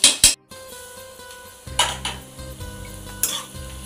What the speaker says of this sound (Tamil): ஸோ இது எல்லாமே நல்லா ப்ரௌன் கலரில் வர வரைக்கும் நல்லா ஃப்ரை ஆகட்டும்.